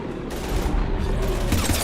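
Rapid sustained gunfire against husks in Mass Effect 3, a dense continuous fusillade of automatic shots, loud and close, with no clear talking.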